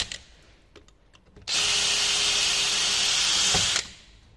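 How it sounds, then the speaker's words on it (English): A 4–5 mm bit drills out a rivet head on a Winkhaus Cobra centre gearbox door lock, a steady loud power-drill whine lasting about two seconds, starting abruptly and cutting off, with faint handling clicks before it. "So the first thing you do is drill out the two rivet heads. I just use a 4 or 5 mil drill bit just to pop the heads off."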